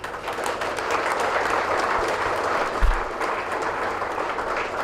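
An audience at the inauguration of a postgraduate training program at NLC India, Neyveli, claps steadily and fairly loudly for several seconds, with a brief low thump partway through.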